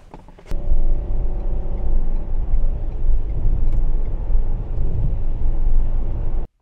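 A car driving along, heard from inside the cabin as a steady low engine and road rumble that holds for several seconds after a brief knock at the start.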